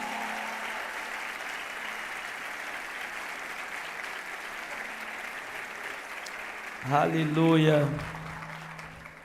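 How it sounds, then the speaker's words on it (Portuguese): Church congregation applauding a woman welcomed with flowers at a worship gathering, steady dense clapping throughout, briefly overlaid by a voice exclaiming near the end. "Dê um aplauso."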